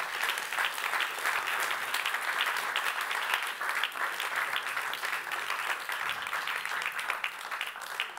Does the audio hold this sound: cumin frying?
no